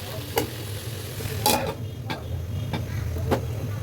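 Okra fries in a pan with a steady close sizzle, while a utensil stirs and scrapes against the pan in several sharp clinks.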